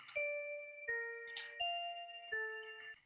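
A Cute Bell synth patch tweaked from a Serum preset plays four or five clean, bright bell notes in a slow sequence. Each note rings and sustains briefly with soft percussive clicks, alone and quiet.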